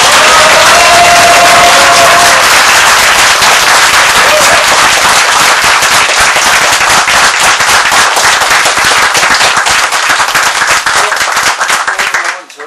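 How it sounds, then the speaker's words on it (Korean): Dense, loud applause from a rally audience for a Korean political candidate, sustained hard clapping with some cheering that continues steadily for about twelve seconds before cutting off. "박수 한번 세게 치내주세요"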